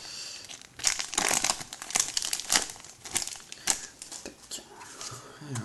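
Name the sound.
Pokémon booster packs being torn open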